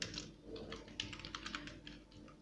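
Rapid keystrokes on a computer keyboard while entering Laravel code for an API, a steady run of light clicks, close and fairly quiet over a low hum.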